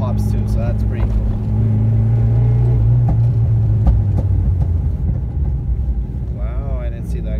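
A 1981 Toyota Corolla SR5 liftback with lowering springs, its engine droning and rumbling steadily while driving, with a few sharp exhaust pops, as someone talks over it.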